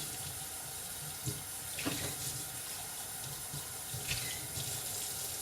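Tap water runs steadily into a kitchen sink as a cup is rinsed, with a few brief clinks and splashes of the cup moving under the stream.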